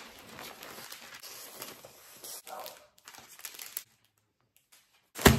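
Paper crinkles and rustles in uneven bursts for several seconds, close by, then fades to quiet before a sharp knock at the end.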